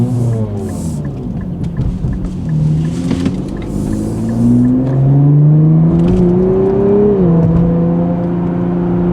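A 2023 Nissan Z with an automatic transmission accelerates on the interstate, heard from inside the cabin: a steady whirring engine note climbs in pitch, drops at a gear change and climbs again over road rumble.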